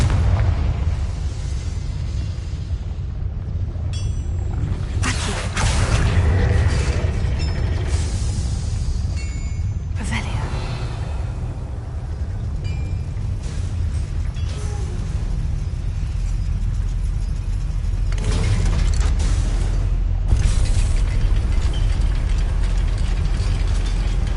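Confringo fire-blast spells go off in a Harry Potter video game, several booming bursts rising out of a steady wash of mechanical game noise.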